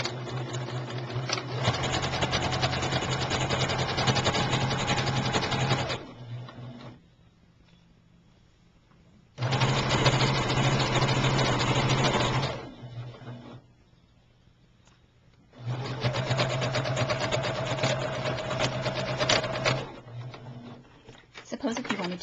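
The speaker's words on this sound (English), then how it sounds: "I'm going to take this over to my sewing machine and sew a stitch on both sides" A sewing machine runs a seam down the edge of fabric for a drawstring halter dress, with three long bursts of loud, steady whirring separated by quiet pauses.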